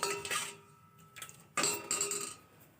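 Curd being stirred with water in a bowl, a spoon clinking and scraping against the bowl in a few short bursts with pauses between, close and fairly quiet.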